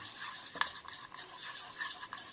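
A spoon stirs two tablespoons of cornflour into milk in a small bowl, soft scraping swirls with a couple of light clinks against the side, quiet and close.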